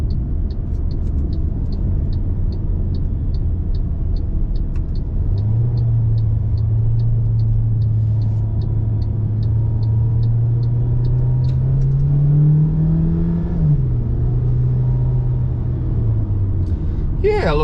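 A 2021 MG HS AWD with a 2-litre engine accelerating in super sport mode, heard from inside the cabin: a loud, steady rumble whose pitch rises across several seconds, then drops back as it settles.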